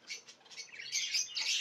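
Caged pet birds, cheap common finches sold in a shop, chirp in quick high twittering bursts that build toward the end, fairly close and with no talking over them.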